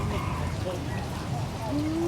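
Light rain easing off during a flood makes a steady, even hiss of drops on surfaces, fairly faint and unbroken throughout, with a brief faint vocal tone near the end.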